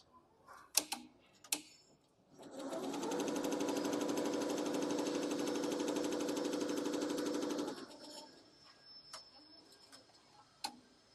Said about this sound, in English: The first color is about to embroider on the machine.